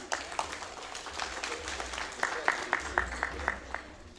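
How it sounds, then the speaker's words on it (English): Scattered audience clapping at a school board meeting during a student medal and certificate presentation, a few sharp claps spaced roughly evenly, moderately near over room murmur. "I don't know if it was her with the clapping."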